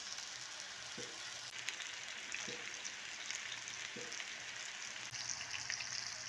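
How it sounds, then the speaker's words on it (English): Steady crackling sizzle of chicken patties frying in hot oil in a pan, continuous and fairly close, with a few faint clicks beneath it. "The chicken patties are frying."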